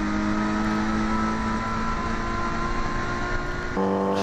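A saloon race car from the Blue Oval series drives at Silverstone, its engine holding a steady, loud drone for about four seconds, with a sharp pitch change near the end as it passes.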